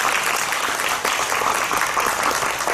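Steady applause from a conference audience fills the room, dense continuous clapping at even loudness throughout.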